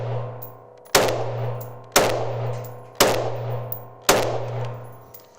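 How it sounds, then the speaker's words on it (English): A semi-automatic bullpup rifle fires five quick shots at roughly one-second intervals, each a sharp loud report with a decaying tail, over a steady low hum and no talking. "As I said, this is semi-auto, so it's just going to be 5 quick bangs."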